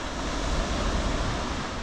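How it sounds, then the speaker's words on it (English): Calm sea waves wash and break below the cliffs of the Jurassic Coast at Harry's Rocks, a soft, steady distant surf rush with no voices. "Ah, you can hear those waves below."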